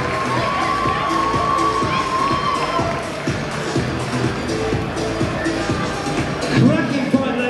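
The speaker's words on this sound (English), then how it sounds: "Massive round of applause to both of these young ladies" Crowd at a women's boxing bout between Amy Clarke and Zoe Davis cheering and shouting after the fight, a loud steady roar of voices with talk mixed in.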